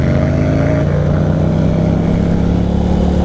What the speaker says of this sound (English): Revving the shit out of his bike.